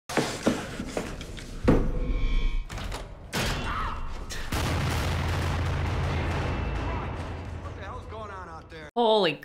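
Gunfire from the film Looper, with several sharp, loud cracks and thuds early on, followed by a sustained rumbling stretch and a brief burst of voice near the end.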